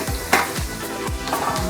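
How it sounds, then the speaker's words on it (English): Steak frying in a hot pan during a home cooking lesson, a steady crackling sizzle punctuated by a few sharp scraping or stirring strokes at a loose, irregular rhythm, close and fairly loud with no voices. "I'm going to pop the steak on in the meantime, and that can be cooking. Right, while that is sizzling away"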